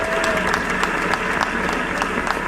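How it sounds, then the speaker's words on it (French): Applause from guests at a civil wedding ceremony, steady dense clapping held at a constant level throughout, with some voices mixed into the crowd. "Applaudissons pour Maître Lydie"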